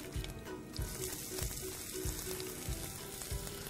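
Onion and garlic frying in fat in a pan give a loud steady sizzle, with soft rhythmic thumps and scrapes from stirring at regular intervals throughout.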